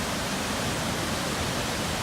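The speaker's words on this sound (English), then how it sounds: "Alright, we made it to the falls, as you can hear." Jack's River Falls roars as a steady, dense wash of falling water that fills the whole clip without a break.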